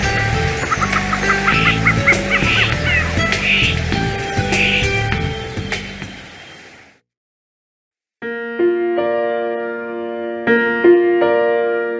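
Birds around a lake, goose-like honking and calls repeating over several seconds, loud and close, followed by a stretch of silence and then gentle music.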